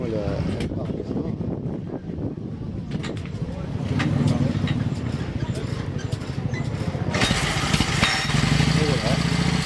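A vintage motorcycle at a classic bike event kicks over and starts, then settles into a loud, close, throbbing run with quick pulsing firing, while someone talks beside it.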